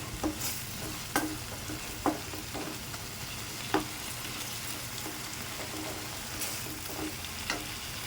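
Ginger and garlic fry in a pan, giving a soft, steady sizzle with a few sharp clicks from stirring. The sound is fairly quiet and there is no talking.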